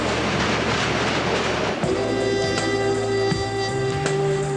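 New York subway train riding toward Brighton Beach, a loud, continuous rumble and rattle of the car on the rails, with rhythmic clicks over track joints and a sustained whining hum of the motors rising in the second half.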